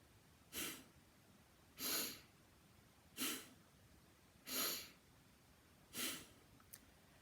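Five forceful nasal exhalations come at an even pace about every second and a half, each a short, breathy snort-like rush of air through the nose, close and distinct against a quiet background.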